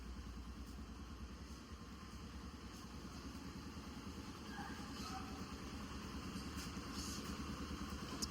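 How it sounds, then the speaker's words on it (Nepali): A motorcycle engine idles close by with a steady, low, rumbling throb that continues without a break. It sits under faint background noise and is quite quiet overall. "ऊ त बाइकको आवाज ठुलो रहेछ क्या"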